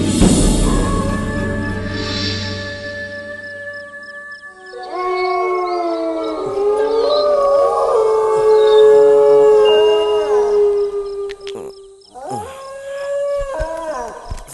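A dog howls at night in long, loud, wavering rising and falling cries, pausing once before a final burst of howling, close by and heard alone without talk.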